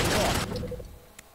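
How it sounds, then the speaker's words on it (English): A building bombed in The Godfather II game: a dense, loud burst of crackling blast noise lasts under half a second, then decays into faint debris and a short sharp pop. "Bomb the building."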